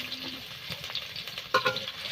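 Hot oil crackles in a pan for a small-fish curry with ridge gourd, a soft close frying hiss with a few sharper pops and a utensil knock near the end, no voices.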